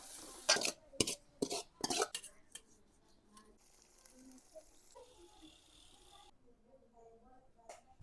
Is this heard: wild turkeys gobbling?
no